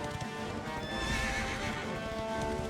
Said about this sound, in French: on va appeler le cheval